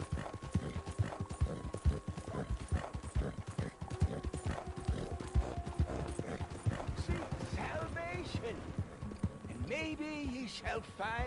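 Horse hooves from Red Dead Redemption 2, a rhythmic clip-clop of a galloping horse at steady pace, close and continuous, with a brief whinny near the end and someone talking over it.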